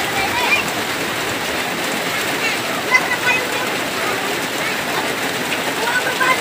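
Steady rain falls in a rural farming area, a dense constant hiss with occasional louder drops, loud and close with no pauses.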